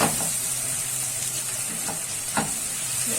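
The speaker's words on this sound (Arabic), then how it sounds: "نحط السكر على البصل، رشة سكر كده علشان يدي كرمرة للبصل كده" Onions sprinkled with sugar fry and caramelize in a pan while ful and falafel are prepared. A steady close sizzle runs throughout, broken by a few brief stirring scrapes, with no talking.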